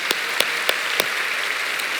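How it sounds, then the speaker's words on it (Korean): A congregation claps for the high school group during a Friday night church worship service. It is a steady wash of applause with a few sharper, louder claps standing out, and no talking. "우리 고등부를 위해서 우리 박수 한번 칩시다."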